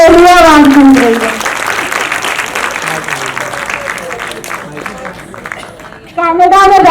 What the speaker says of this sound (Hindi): जोरदार तालियां सौरभ पांडे के लिए, जोरदार तालियां।